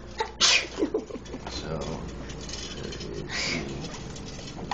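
A sneeze bursts out near the start during a toy car unboxing indoors, loud and close, followed by a second, quieter sneeze-like burst a few seconds later, with a person speaking briefly around it.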